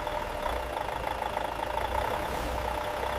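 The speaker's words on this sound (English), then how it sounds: "Can you hear 750 horsepower?" A Volvo FH16 truck's 750-horsepower engine idles with a steady, deep mechanical rumble and faint knocking texture, close and continuous with no other sounds.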